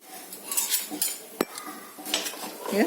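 Metal clatter and clinks at close range as a pressure cooker lid goes on, with a sharp knock partway through and faint rustling between the contacts.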